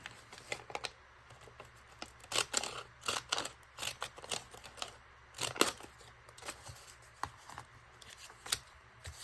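Scissors cutting ribbon for a glued paper craft page, a series of short crisp snips and light rustles spaced irregularly, close and fairly quiet.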